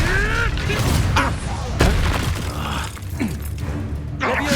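An Incendio fire spell is cast in Hogwarts Legacy, sharp bursts and crackling impacts layered over dense, loud battle sounds and game effects.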